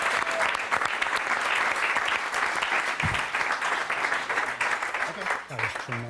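A comedy club audience at the Gotham Comedy Club bursts into loud, steady applause for a departing comedian, dense clapping filling the room and then thinning near the end as a voice starts to speak.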